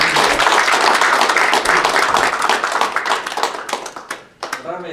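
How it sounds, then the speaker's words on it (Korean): Clapping from an audience at a general assembly meeting, in honour of women members: dense and loud at first, then thinning to scattered claps before fading out, with voices underneath. "저 여자분들 우리 박수 한번 또 쳐줍시다"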